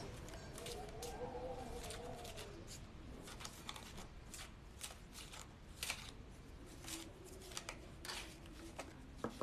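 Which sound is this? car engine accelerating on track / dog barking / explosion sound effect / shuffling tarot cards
shuffling tarot cards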